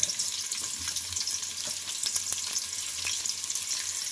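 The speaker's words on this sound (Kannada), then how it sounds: "ಕಟ್ ಮಾಡಿ ಇಟ್ಕೊಂಡಿರುವಂಥ ಈರುಳ್ಳಿನ ಹಾಕೊಂಡು ಒಂದು ಸ್ವಲ್ಪ ಫ್ರೈ ಮಾಡ್ಕೊಳ್ಳೋಣ ಎಣ್ಣೆಯಲ್ಲಿ" Chopped onions frying in oil for jeera rice, giving a steady, close, bright sizzle with small crackles and light stirring throughout.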